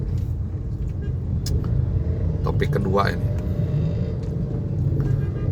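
Cars stuck in a traffic jam give a steady, low engine rumble throughout, close and constant, with a person talking over it.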